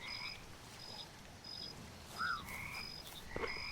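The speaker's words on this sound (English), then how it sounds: "Frogs in the mud." Small frogs in mud in the video game Mudborne give repeated short, high chirping croaks at an even rhythm, faint over soft ambient background, with a slightly lower croak mixed in.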